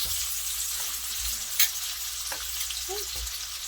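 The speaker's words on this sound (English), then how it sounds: "I'm going to stir this in, and that'll get all of that beautiful bacon juice all over my mushrooms" Sliced mushrooms sizzle and fry in bacon fat while a spoon stirs them, a steady crackle close to the microphone with a couple of sharp scraping clicks.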